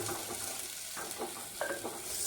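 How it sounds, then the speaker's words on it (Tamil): Chopped banana flower sautés in a pan, giving a brief, soft sizzle with a few faint stirring scrapes, fairly quiet throughout. "வாழைப்பூ நல்லா வதங்கணும் ஒரு அஞ்சு நிமிஷம் வதக்கணும் வாழைப்பூ"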